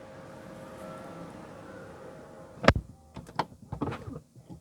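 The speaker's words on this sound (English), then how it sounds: "put your foot on the brake and the door will close" A Rolls-Royce Spectre's power door closes automatically after the brake is pressed: a quiet motor hum, then a firm thud as the door shuts, followed by a few softer clicks and latch knocks.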